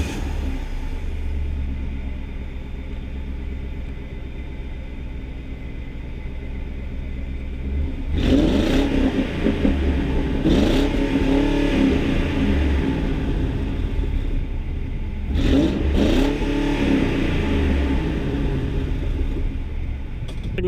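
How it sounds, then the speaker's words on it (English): A stock Ford Crown Victoria idles with a steady low exhaust rumble, then revs up twice in strong bursts that fall back to idle, loud and close with no talking. "we're gonna start with a stock Crown Vic first so you guys can hear what a stock one sounds like"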